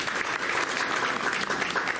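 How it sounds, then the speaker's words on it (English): A crowd applauds with steady, dense clapping that holds for a couple of seconds. "Let's give her a round of applause"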